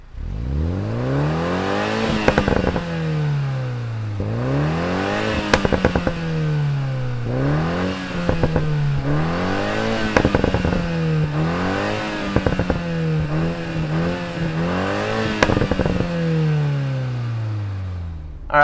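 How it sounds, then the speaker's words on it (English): A 2021 Toyota Supra's 2.0-litre four-cylinder turbo engine fires up, then rises and falls through a series of repeated revs, loud and close, with sharp crackles and pops between the throttle blips and no talk. "Let's fire up this Supra and hear what it sounds like."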